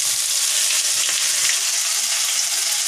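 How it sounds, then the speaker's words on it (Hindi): Ginger-garlic paste sizzles in a hot pan while cooking pav bhaji, a dense, constant hiss of frying oil with faint scraping and stirring underneath, close and steady throughout. "अब मैं इसमें अदरक और लहसुन का पेस्ट डाल रही हूँ।"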